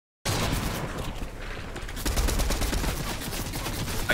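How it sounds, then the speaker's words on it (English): Dense, continuous gunfire in the video game Fortnite during a Cash Cup duo match: a loud, rapid burst of shots that runs almost without a break, with no speech over it. "Why are you shooting me in the back?"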